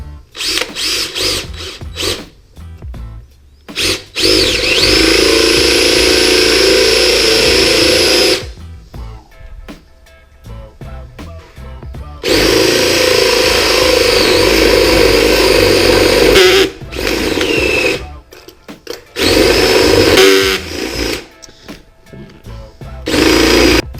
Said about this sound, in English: I'm gonna use a smaller bit. Change the bit out for a 1-inch.